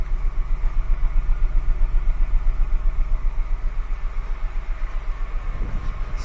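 A misfiring Honda Accord engine idles nearby with a steady, rhythmic puffing pulse from its exhaust pipes, a low throbbing beat that continues evenly throughout.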